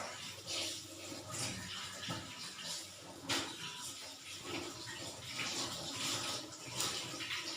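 A cement sink in an old house being washed with water, a continuous close splashing and gushing with rises and surges as water runs and sloshes against the basin.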